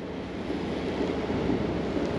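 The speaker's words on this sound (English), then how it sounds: "It's pretty windy today." Wind blows steadily across an urban freshwater creek in Sydney, a continuous broadband rushing hiss with soft low buffeting and no talk.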